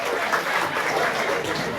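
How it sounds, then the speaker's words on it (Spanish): An audience claps for the UGEL Atalaya group at an intercultural bilingual education event, a steady, dense patter of applause held at an even level throughout. "Recibamos con fuertes palmas."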